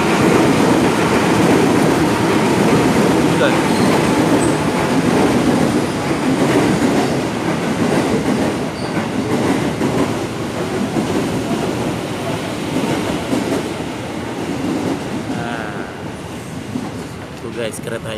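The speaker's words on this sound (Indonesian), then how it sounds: "kereta lewat lagi nih" A train passes close by a roadside food stall with a steady, loud rumble and rail clatter lasting throughout, while someone talks over it.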